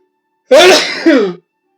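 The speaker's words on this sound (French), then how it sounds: "Je vais éternuer dans 3, 2." A single loud, close sneeze with a voiced two-part burst, abrupt onset and quick finish.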